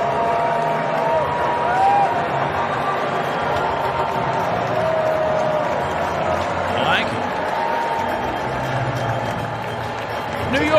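Stadium crowd at the U.S. Open in New York cheering Trump, a continuous broad roar of voices with scattered whistles and shouts rising above it, fairly loud and steady.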